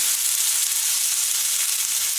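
Vegetables and palta (pointed gourd) leaves fry in oil in a pan, giving a steady, dense sizzle that holds evenly throughout with no voices.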